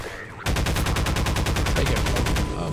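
Rapid automatic gunfire in Half-Life 2, a steady, loud, evenly spaced stream of shots that starts abruptly and runs for about two seconds.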